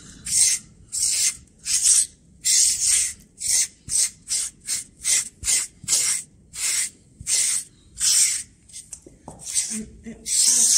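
SleekEZ grooming tool dragged through a horse's muddy shedding coat in a dozen or more loud, rhythmic raspy strokes, each about half a second, close up.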